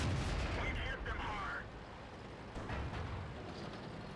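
Tank cannon fire in a World of Tanks match, a few dull booms spread through the clip against steady rumbling battle noise, moderately loud, with no clear talk.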